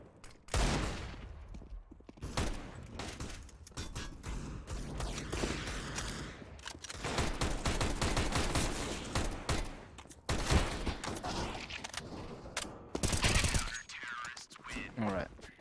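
Pistol fire in a competitive Counter-Strike match on de_nuke, a dense barrage of rapid shots and clicky weapon mechanics running almost throughout, with a caster's voice talking over it.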